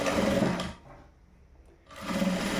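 Sewing machine stitching a blouse lining side seam, running in two loud bursts with a short pause between them.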